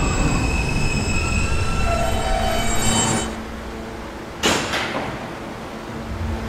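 A 2008 Kawasaki R160B subway train on the E line runs loudly, with steady rumbling and high sustained wheel squeals that cut off midway, followed by a brief screech and quieter rolling.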